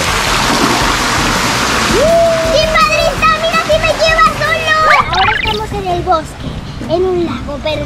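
Rushing, splashing water of a waterfall over a lazy river at a water park, loud and constant, with excited children shouting and talking over it.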